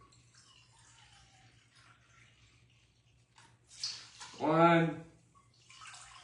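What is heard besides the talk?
pouring Kroger apple cider vinegar into measuring cups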